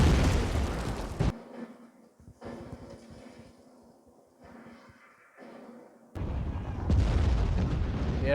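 Heavy artillery barrage explosions in a World War II combat scene, loud sustained booming rumble at the start and end, with quieter distant thuds and crackles between.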